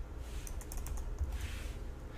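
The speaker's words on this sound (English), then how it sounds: "click the enter key on the keyboard" Faint, quick keystrokes on a computer keyboard as a command is typed, a short cluster of clicks over a low background hum.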